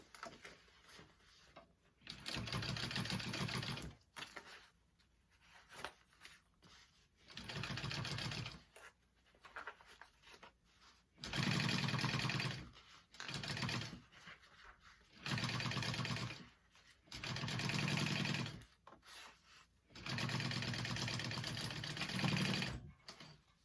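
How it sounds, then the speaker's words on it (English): A sewing machine topstitches a mini backpack in repeated bursts of rapid stitching, each run lasting a few seconds and separated by short pauses, close and clear with no talk. "start top stitching after that 5/8 mark"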